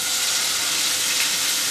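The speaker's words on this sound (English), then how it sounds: "Now that the oil is very hot, we are just going to put them there and fry them." Steady, loud sizzling and crackling of botifarra sausages frying in hot olive oil, a constant hiss with no pauses.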